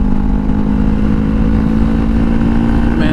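A Honda CBR500R motorcycle engine runs steadily on a night ride, a loud, close, continuous hum with a firm low rumble and no break in level.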